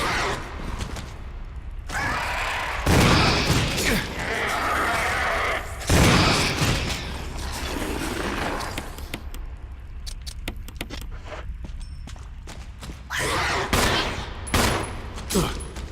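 Bursts of gunfire from Resident Evil HD crack over a dense, noisy game soundscape, with clattering mechanical sounds and sharp shots toward the end.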